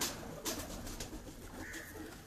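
Pigeons on a rooftop give soft, faint cooing. It is heard through steady outdoor noise and a few light knocks, with no one speaking.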